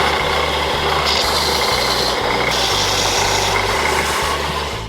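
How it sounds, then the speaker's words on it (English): Belt sander flattening the bottom of a scrap wood table leg: a loud, steady motor whine with rhythmic rasping surges as the wood is pressed and lifted against the belt, close and alone. "I'm gonna run it on the belt sander to flatten everything out."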